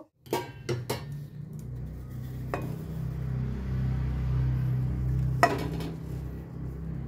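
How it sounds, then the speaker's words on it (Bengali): A slice of bread flipped in a hot pan, with a couple of sharp metal clanks from the utensil and pan at the start and again later over a steady, close sizzle of frying. "এটাতে একটু উল্টে নেব।"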